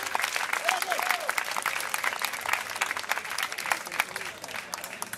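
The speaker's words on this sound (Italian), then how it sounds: "un bel applauso a chi ha organizzato tutto questo e i Team Crew" Crowd applause at a breakdance battle event in Imola, Italy, for the organizers and crews: sustained dense clapping from many people, fairly close, with a few cheers and voices mixed in throughout.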